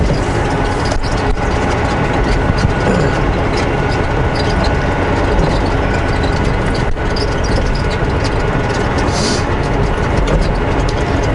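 Heavy engine rumble of an empty truck driving north through northern Alberta, a constant low droning roar from inside the cab with steady road noise and no talking.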